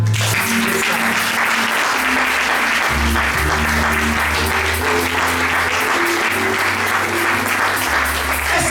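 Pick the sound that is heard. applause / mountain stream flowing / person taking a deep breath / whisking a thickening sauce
applause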